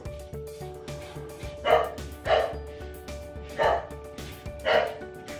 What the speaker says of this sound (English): It's probably the little one, little black one, it's barking.